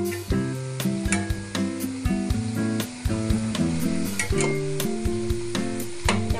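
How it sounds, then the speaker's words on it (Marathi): Balushahi deep-frying in oil until golden, giving a steady bubbling sizzle at close range with a few soft clicks from handling, over low tonal sounds. "अशी तळून घ्यायची छान आपल्याला हिला, गोल्डन होईपर्यंत."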